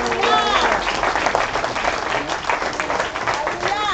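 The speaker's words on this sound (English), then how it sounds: "please give the elder and the brother a big round of applause" A crowd applauds loudly and steadily, dense clapping filling the room, with a voice faintly audible beneath.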